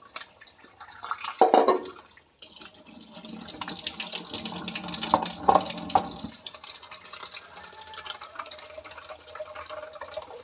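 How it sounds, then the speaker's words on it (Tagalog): Tap water runs into a container in a close, rushing splash that shifts in tone while the vessel fills. Clinks and handling knocks are mixed in, and the flow softens toward the end. "Kaya puno muna ako ng water."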